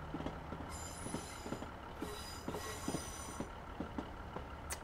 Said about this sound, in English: Listen to that flange. That is brilliant.